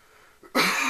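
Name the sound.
coughing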